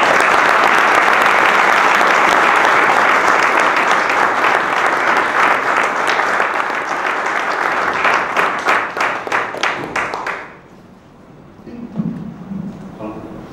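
Loud audience applause at a book presentation on the history of the Palma 47 Infantry Regiment, a full crowd clapping steadily that breaks into sharper individual claps before stopping abruptly, followed by faint voices.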